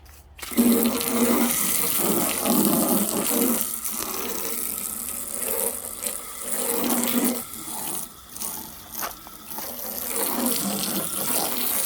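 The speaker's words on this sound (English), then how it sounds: "so just a regular old water hose. Let's see what it does." Water from a regular garden hose rushes and splashes steadily onto a car headlight for several seconds, a broad hissing spray with small shifts in force, no talking.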